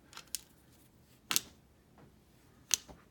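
The cylinder of a Colt Model 1917 revolver is spun, giving a few faint, sparse clicks and soft ticks spaced over a few seconds against near silence.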